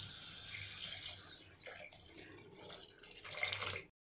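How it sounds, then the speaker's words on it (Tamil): Tamarind water is poured into a cooking pan for a pumpkin jaggery kuzhambu, a soft continuous splashing trickle that swells toward the end and then stops suddenly. "இப்போ இந்த புளி தண்ணி இதில் சேர்த்துக்கலாம்."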